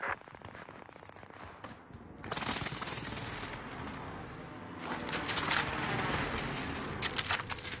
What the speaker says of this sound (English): Here's the target for airstrike. This is Phoenix 3. Strike inbound.